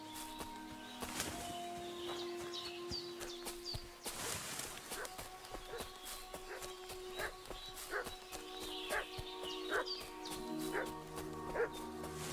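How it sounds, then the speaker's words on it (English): A dog barking insistently in the medieval village setting of Kingdom Come: Deliverance II, a string of repeated sharp barks and yips at moderate distance over a steady ambient bed, with faint tonal background music. "What's that dog making such a fuss about?"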